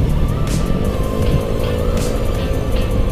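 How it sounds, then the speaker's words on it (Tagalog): A loud engine roars steadily close by, a 155 motorbike revving past on a road with continuous droning noise and no pause. "Lakas talaga ng motor niya."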